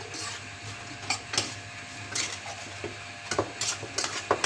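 Potatoes seasoned with black pepper and salt are stirred in a pan, with intermittent scraping and clinking of a utensil and a soft sizzle underneath, close and moderately loud.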